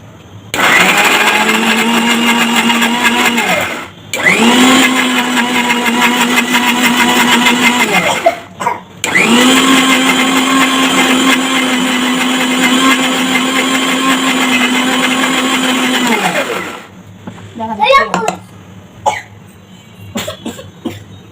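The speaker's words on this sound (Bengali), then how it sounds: "আমাকে এখন এটা এই যে ব্লেন্ডারে দিয়ে দিয়েছি" An electric blender grinding taro stolons (kochur loti) for bhorta, a loud close whining motor in three long bursts separated by short pauses, then a few clatters as it stops.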